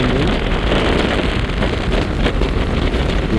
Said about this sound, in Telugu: ఇంకా ఇసుక గాలి ఘోరంగా పెడుతుంది.